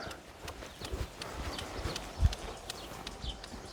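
Horse hooves clip-clopping at a trot, a steady rhythmic beat of close, moderately loud footfalls that carries on throughout.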